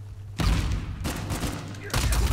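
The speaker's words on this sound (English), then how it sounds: "I disoriented him with the explosion." Explosions and gunfire blast through a firefight in Uncharted 4, a loud booming burst, then a sustained rumbling barrage with a fresh heavy hit near the end.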